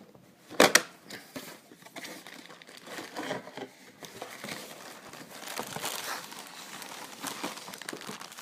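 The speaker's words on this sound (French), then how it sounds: "muni d'un couteau, couper les scotch" A knife slicing through packing tape on a Dragon Ball Super Broly figure box, a sharp snap near the start followed by scattered crinkling, scraping and rustling of cardboard and plastic, fairly quiet and close, with no speech.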